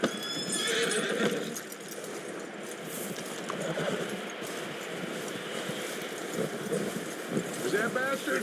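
Horse neighing and whinnying with clip-clopping hooves in a Red Dead Redemption 2 game scene, with a whinny early on and steady hoof steps under ambient game sound and speech.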